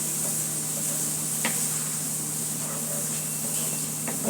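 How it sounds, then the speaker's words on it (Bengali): Turmeric being stirred into a pan of chickpea curry, a continuous soft hiss and sizzle with a few faint scraping strokes of the spoon, steady and close with no talking. "ভালো করে নেড়ে নেব"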